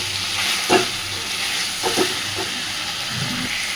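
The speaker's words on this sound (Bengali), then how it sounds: "তো এইভাবে আলুর সাথে ডিমটাকে সুন্দর করে একটু কষে নেব।" Egg and potato being sautéed in a pan for egg curry, a continuous close frying hiss broken by a few scraping stirs and spatula knocks, no talking.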